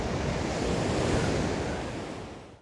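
Ocean waves wash onto a beach near a cave, a loud continuous rushing surf with wind noise buffeting the microphone, fading out at the end with no talking.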